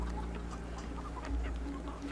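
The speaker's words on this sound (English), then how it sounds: "Chickens and gooses." Chickens and geese in a Sherlock Holmes video game cluck repeatedly over a steady low background hum, with scattered short calls at moderate loudness and no talk.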